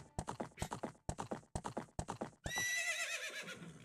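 Epona, the horse in the 3DS remake of Ocarina of Time, clops along in a rapid series of hoof steps, then lets out a loud, drawn-out whinny that rings and wavers for over a second.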